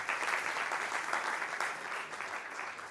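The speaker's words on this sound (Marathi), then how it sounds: "म्हणून मनोज भाऊ आणि त्यावेळेसचे सचिव राजेंद्रजी यांच्यासाठी आपण जोरदार टाळ्या वाजवाव्या" An audience applauds loudly and continuously at a Jalgaon Rotary Club installation event honouring Manoj Bhau and Rajendraji, with dense, sustained clapping throughout.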